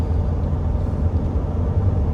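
A Ford F-150 with a 3.0 Powerstroke diesel tows 10,000 lbs uphill, its engine laboring in a steady low rumble with road noise, heard from inside the cab.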